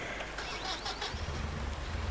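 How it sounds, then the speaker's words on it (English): Steady rain hisses throughout a winter scene in Farming Simulator 19, an even wash of patter with a low rumble rising in the second half. "for some reason the raining sound is playing"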